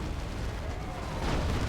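A plasma cannon fires in Dawn of War 2 amid a dense, rumbling battlefield din of explosions and artillery, loud and continuous through the moment.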